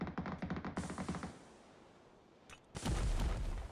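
Grenade explosion in the PUBG video game, a sharp burst arriving abruptly after a few quieter gunshot-like pops and a lull, loud and sustained as it booms and decays.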